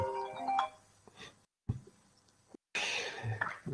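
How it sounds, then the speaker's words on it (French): A mobile phone rings during a lecture with a short tonal melody at the start, followed by scattered rustles, a throat-clearing sound and a burst of broadband noise. "ça c'est mon téléphone que je vais couper tout de suite"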